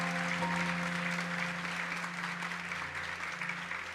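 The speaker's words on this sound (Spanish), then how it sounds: "Denle un fuerte aplauso al Señor." A church congregation applauds, a dense and steady wash of many hands clapping at once, sustained evenly throughout at moderate volume with a faint tonal hum beneath.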